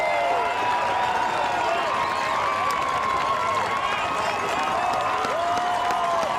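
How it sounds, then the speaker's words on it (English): A baseball crowd cheers and applauds after a game-ending strikeout, a sustained roar of voices, whistles and clapping heard from within the stands, with excited shouting throughout. "Listen to the crowd."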